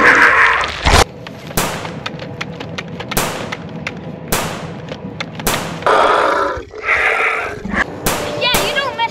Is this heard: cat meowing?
no